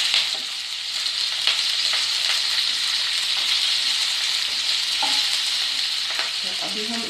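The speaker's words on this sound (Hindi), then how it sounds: "इसको थोड़ा सा फ्राई करेंगे" Red chillies frying in a pan over low heat, a steady close sizzle with occasional stirring scrapes throughout, no voices.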